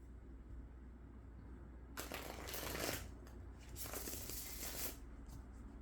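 Tarot cards are shuffled close up in two quick riffling bursts, separated by brief pauses over a quiet background.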